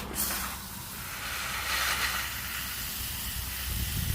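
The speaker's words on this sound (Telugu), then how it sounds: "నీళ్ళు కొడదాం చెట్లకి." Water spraying onto garden plants on a hot day, a continuous close hiss with splashing texture that swells and recedes as the spray moves.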